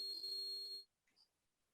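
Robot alarm sounding as a loud, rapid pulsing electronic beep tone for under a second, then cutting off into near silence with a faint short chirp after.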